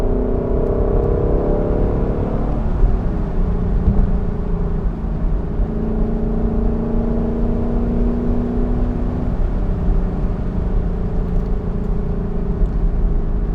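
A Lexus LC 500 convertible V8 drones steadily while driving, with its pitch shifting as gears change a couple of times. The engine note stays close and constant with no voices.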